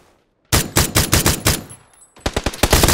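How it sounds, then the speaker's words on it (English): Loud, close automatic gunfire from above in a video game shooter: a rapid burst of shots, a brief pause, then a second rapid burst. "Getting shot at from up top."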